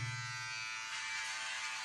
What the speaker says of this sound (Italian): Io nel mio caso uso un rasoio elettrico, che però è solo un accorciabarba.